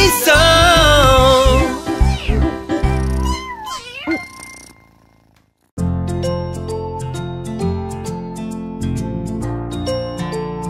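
A kitten's meowing in a French children's song, the cat cries rising over sung melody and music, fairly loud, with bright jingling and rhythmic accompaniment continuing after a brief pause.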